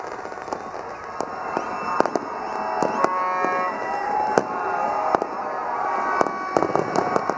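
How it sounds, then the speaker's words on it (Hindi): Independence Day fireworks burst over Minar-e-Pakistan in Lahore: loud, sharp bangs and crackles repeat irregularly over a continuous rumble, with a faint crowd murmur underneath. "बड़ी शानदार आतिशबाजी का यहाँ पर मुजाहरा हो रहा है"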